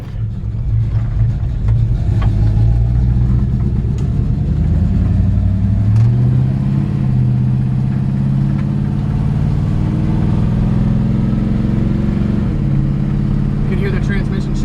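A 1953 Ford F-100 pickup truck drives along with a steady, loud mid-pitched engine drone and a brief rise as it pulls, continuous throughout with a voice talking over it.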